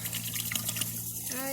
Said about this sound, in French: on verse les 2 litres d'huile de lin à l'intérieur